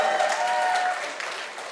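An audience claps together in a steady burst of applause that holds at an even loudness for a couple of seconds before easing slightly.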